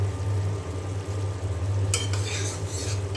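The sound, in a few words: potatoes and tomatoes being stir-fried in a pan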